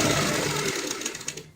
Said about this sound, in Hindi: अब हम इस साइड फोल्ड करते हुए यहाँ पे सिलाई लगाते हैं।